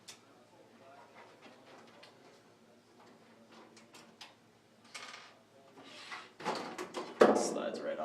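A computer case side panel slides off after its four screws come out. Faint clicks and light handling noises build to a louder scraping slide and clatter near the end.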